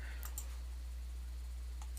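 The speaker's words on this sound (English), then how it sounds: "left click" A computer mouse clicked at a desk, a few faint, close clicks, two quick ones early and one later, over a steady low electrical hum.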